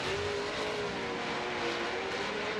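A V8 BMW drift car at Formula Drift Seattle ripping into the power alley, a loud, sustained engine roar with a steady high whine and no break, heard from a distance over constant track noise.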